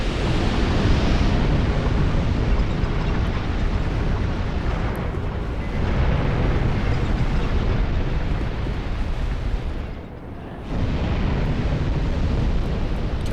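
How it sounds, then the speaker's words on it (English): A big explosion in Dark Souls 2 sounds like a loud, continuous roaring rumble, almost like surf, that fills the whole stretch. It dips briefly near the end and then surges back. "Explosion."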